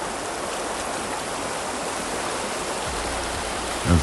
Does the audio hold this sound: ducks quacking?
no